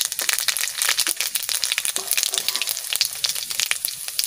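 Panch phoron spices crackle and sizzle in hot oil in a pan with bay leaf, a steady bright spitting fry full of tiny pops, close and fairly loud, with no talking.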